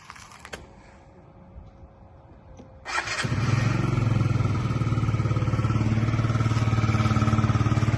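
Yamaha Jog SA 39 ZR fuel-injected scooter engine starts after a quiet stretch and a few clicks, then settles into a steady, close, loud running idle with an even putter.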